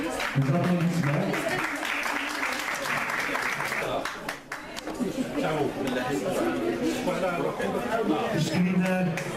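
Audience applause at a closing ceremony for a screener and oncology training course in Batna, a steady wash of clapping running throughout with voices chattering underneath.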